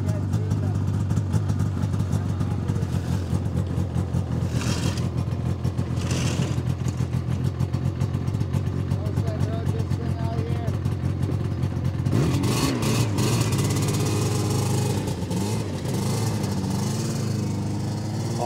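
A vintage Cushman engine idling and running steadily for the whole stretch, a loud continuous low chugging with clattery texture that roughens and surges near the end, with people talking over it.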